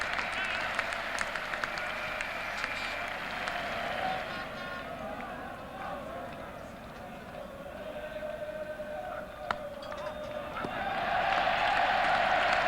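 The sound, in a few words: cricket crowd applause at Lord's for 50 runs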